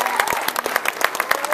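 An audience at a CanStruct charity building event applauds the judges with brisk, rhythmic clapping at moderate volume, the individual claps clearly separated.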